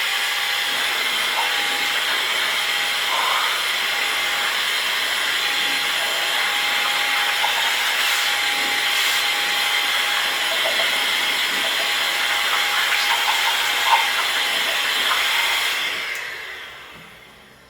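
A 2024 ultra-compact mini blower runs at full power, producing a loud, steady rushing hiss of air with a high motor whine that holds for about sixteen seconds before it winds down and fades out.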